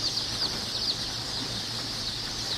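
White-faced Black Spanish chickens cluck and chirp at a hatchery, a steady flock chatter of many small birds with a constant high chirping wash and occasional wing flutters.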